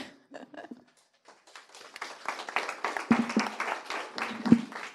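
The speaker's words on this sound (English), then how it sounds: "Yeah, big applause." An audience at the Technical University of Sofia breaks into applause, starting with a few scattered claps before building into dense, sustained clapping up close, with no voices.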